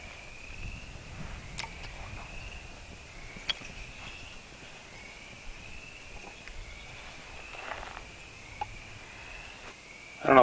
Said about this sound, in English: the frogs are really going crazy